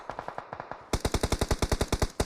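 Enemies fire at the player in a video game. The automatic gunfire comes as rapid, evenly spaced bursts, quieter at first and then loud and close, with a slight echo and no talk.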